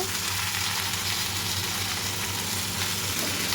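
Ingredients fry in a pan with a steady, dense sizzle and crackle that holds at an even level throughout, close by and with no voices.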